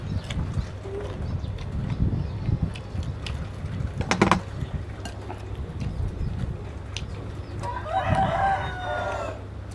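Chickens cluck and scratch around close by, and a rooster lets out a loud crow near the end over a low background hum.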